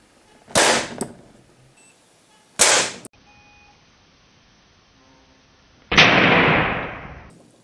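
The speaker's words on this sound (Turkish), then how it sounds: "Atışa başlıyoruz. İlk atışımız geliyor." A homemade seven-coil electromagnetic rail gun fires with sharp, loud bangs: two short cracks followed by a longer, harsh burst that decays over about a second, with quiet gaps and faint electronic tones between.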